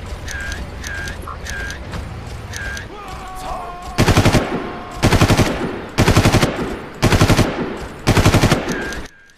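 Bursts of heavy automatic gunfire in the 2004 PC shooter Far Cry, taking down a sniper: five loud, rapid volleys of roughly a second each with short gaps, preceded by quieter game ambience and beeping tones.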